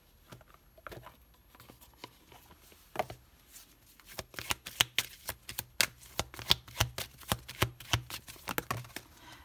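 Oracle cards are shuffled for a reading, close and crisp, with a rapid run of papery riffling slaps that grows denser and louder in the second half.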